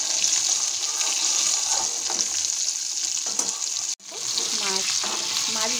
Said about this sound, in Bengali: মাছ ভেজে যে তেলটুকু ছিল তার মধ্যেই আমি মাছের মাথাগুলো ভেজে নিলাম কড়া করে